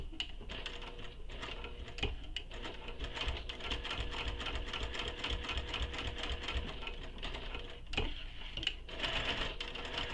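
A sewing machine stitching slowly around a curved seam of a fabric sling pack, a close rapid mechanical chatter that runs steadily, dips briefly and picks back up, with no talking.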